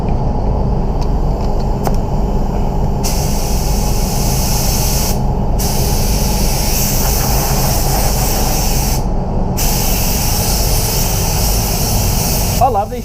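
Air-fed spray gun hissing steadily inside an auto body shop spray booth during a spot repair paint job, loud and close, with brief pauses in the spray and a continuous rushing airflow underneath.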